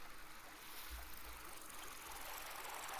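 Stream water in the video game Vintage Story, a soft, steady rushing and trickling flow heard faintly and continuously with no other sounds on top.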